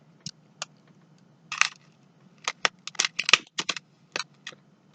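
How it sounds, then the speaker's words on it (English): Scissors or gardening shears snip a small white piece off while making a Thanksgiving wreath, giving a series of short, crisp, close cuts and clicks in an irregular rhythm with no talking. "you can take your scissors or you can take your gardening shears and you're just going to cut off this white little piece."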